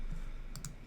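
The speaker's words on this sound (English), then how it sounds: "you can click on the keyboard" Two quick, light key clicks on a computer keyboard, close and crisp, standing over a low background hum with no voices.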